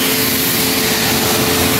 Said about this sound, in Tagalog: Okay, so nandito na tayo sa finishing sa vacuum. Ayan yung vacuum nila.